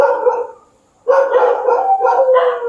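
A dog howls and barks close by, loud drawn-out cries in two stretches separated by a brief pause, with no other sound competing.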